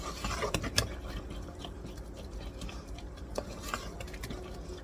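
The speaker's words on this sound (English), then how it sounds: "Give it a mix to mix it up good." A spoon stirs chicken vegetable soup in a pot, giving faint, irregular clinks and scrapes against the metal over a quiet kitchen background.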